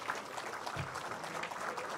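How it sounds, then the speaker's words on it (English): An indoor crowd at a Moonee Valley Gold Cup barrier draw gives a brief, steady round of applause, moderately close and even in level. "Round of applause"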